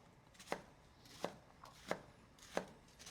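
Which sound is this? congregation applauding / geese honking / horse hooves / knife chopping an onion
knife chopping an onion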